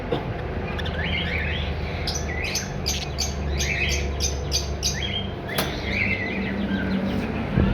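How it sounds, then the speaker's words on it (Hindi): A breeder pair of budgerigars, also called Australian parakeets, chirps and squawks in short bursts over a steady background hum, with bright tweets recurring throughout. "आगे ये आ गया बजरी, जिसको हम ऑस्ट्रेलियन भी कहते हैं, ब्रीडर पेयर हैं।"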